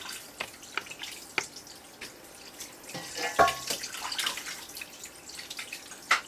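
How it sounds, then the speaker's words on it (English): Tap water runs into a sink as oxtail pieces are rinsed and rubbed by hand one at a time, a soft steady trickle with scattered drips and splashes close by, and no talking. "So I'm going to wash the oxtail one by one because they're already cleaned off."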